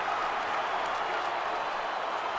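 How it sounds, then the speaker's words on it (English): AFL stadium crowd at a football match, a steady wash of distant cheering and applause sustained at an even level throughout. "Look at the energy in that crowd, man."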